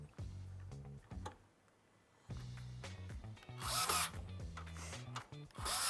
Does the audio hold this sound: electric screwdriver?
yes